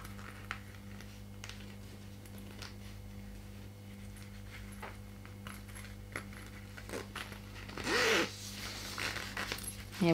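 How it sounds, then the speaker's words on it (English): A zipper pull is slid onto a fabric ring binder pouch, giving soft close rustles and small metallic clicks, with a brief louder zip near the end and no talking. "When you are ready, add your zipper pull."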